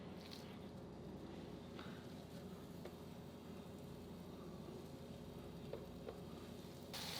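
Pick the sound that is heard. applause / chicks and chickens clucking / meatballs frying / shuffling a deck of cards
meatballs frying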